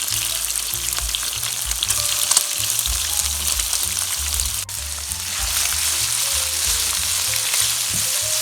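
Cubed ham and spring onions frying in a pan, with a steady loud sizzle and repeated scraping stirs throughout and no voices.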